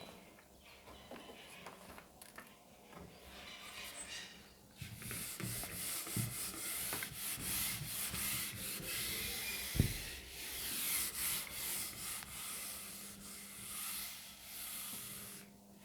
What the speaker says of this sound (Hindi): इसको रब कर दे रहे हैं।